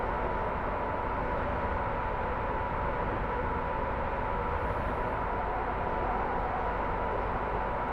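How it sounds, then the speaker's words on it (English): Inside a train cab in Train Simulator 2021, traction motor drone blends with rushing wind outside, forming a steady, dense roar that holds constant with no pauses and no voices. "over the traction motor noise you can hear the wind outside."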